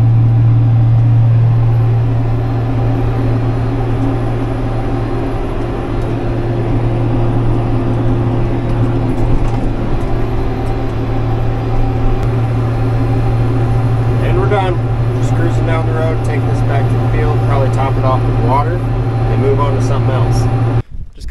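Steady, loud droning engine of a farm tractor heading out to spray a field, a constant low hum with a strong tonal pitch running throughout, with some faint rattly detail in the later part.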